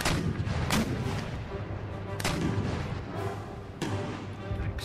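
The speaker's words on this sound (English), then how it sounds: "Let's get you focusing on that unit with shrapnel fire." Artillery shrapnel fire from a battle in the video game Empire: Total War, with repeated heavy booms and crackling blasts layered over a constant rumbling battlefield din.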